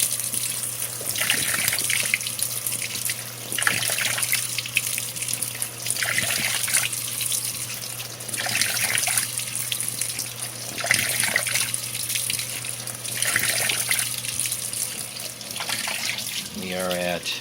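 A Whirlpool Cabrio WTW7000 top-load washing machine fills with a steady rushing gush of water that swells and eases in regular pulses, close and fairly loud, with a low hum underneath and a person talking intermittently.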